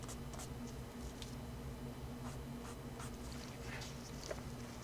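A fountain pen with a wet-writing stub nib scratching across notebook paper, faint soft strokes in quick irregular bursts against a quiet room hiss, no speech.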